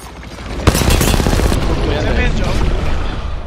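Rapid bursts of automatic gunfire in Apex Legends, loud and close, with a sharp shot at the start and dense crackling volleys throughout while a player talks over them.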